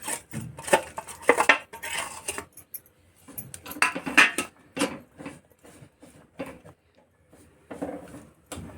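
Jaggery melting in a spoonful of ghee in a pan over a low gas flame, stirred with a spoon that clinks and scrapes against the metal in uneven bursts, with short quiet pauses between strokes.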